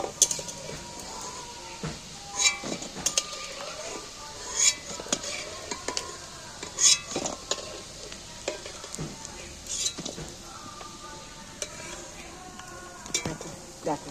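Pieces of food deep-fried in oil until reddish-brown, with a steady sizzle under repeated scraping and clinking of a metal utensil against the pan as they are lifted out. No voices.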